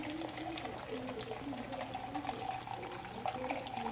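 Tequila poured from a bottle into a glass while mixing a cocktail at home, a steady close liquid trickle running for several seconds with light room noise and a voice nearby.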